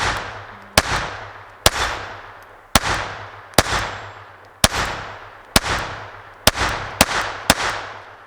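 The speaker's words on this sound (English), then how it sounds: "Cci Blazer out of the Ruger SR22" A Ruger SR22 pistol firing CCI Blazer .22 rounds outdoors, ten sharp loud cracks at a steady pace about one per second, each trailing a brief echoing decay, with no talk.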